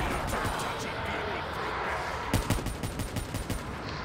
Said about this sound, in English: Look how fast you can just spam fire this gun.